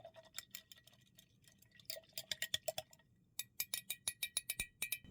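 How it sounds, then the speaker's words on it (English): A metal utensil clinks rapidly against a glass container while liquid is stirred, a quick run of bright taps in bursts with short pauses between, close and fairly loud. "Stir, stir, stir."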